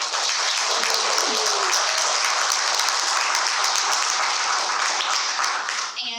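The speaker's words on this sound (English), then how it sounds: "let's hear a big round of applause for her" An audience at a school board meeting claps for a student being recognized, with dense, sustained applause from many hands that runs loud and steady before fading at the end, with some voices mixed in.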